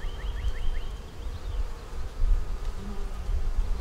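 Honey bees buzz around an open hive during an inspection, a steady close drone of many insects with a few brief higher whines passing near.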